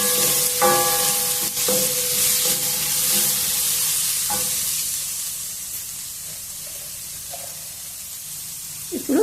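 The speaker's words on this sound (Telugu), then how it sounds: "ఇప్పుడు కట్ చేసుకున్న క్యాప్సికమ్ కూడా వేసేద్దాం." Chopped capsicum tossed into a hot pan for capsicum rice and stir-fried, giving a steady broadband sizzle with several sharp spatula clinks against the pan early on, then softer stirring scrapes as the hiss fades slightly, with no talking.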